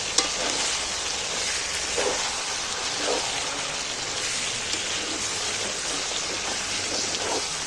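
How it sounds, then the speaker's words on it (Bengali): Chicken is stirred and fried in a pan in a Bengali home kitchen, giving a continuous dense sizzle at steady loudness. Occasional soft scraping strokes of stirring come through the sizzle, and there is no talk. "অনেকটা ছাড়াই বা খুলে খুলে নেড়ে নেড়ে কষতে হবে।"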